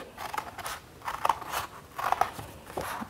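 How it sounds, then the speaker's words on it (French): Several crisp snips of scissors cutting paper, spaced irregularly about every half second, close and fairly quiet. "vous reprenez vos ciseaux et vous découpez le long de la ligne que nous avons tracée"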